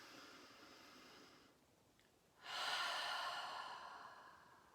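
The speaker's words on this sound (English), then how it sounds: "So, your ujjayi breath. Again, big breath in," Ujjayi yoga breathing, one long audible breath in, a brief pause, then a loud, breathy exhale through a constricted throat, close and alone.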